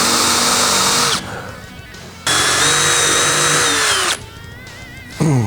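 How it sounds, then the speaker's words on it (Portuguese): A power drill bores a hole in wood in a woodworking workshop, whining loudly in three close-up bursts with quieter pauses between them and a rising spin-up at the end. "agora eu vou fazer o furo aqui"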